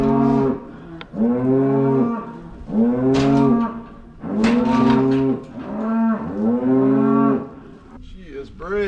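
Cattle in a new handling facility moo repeatedly, about six loud, drawn-out bellows in succession with brief pauses between, close and clear.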